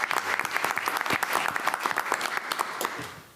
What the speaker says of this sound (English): So a round of applause for those students for doing well at Trumbauer.